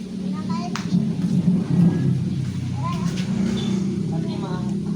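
Thunder rumbles low under steady rain noise, with children's voices chattering over the storm throughout.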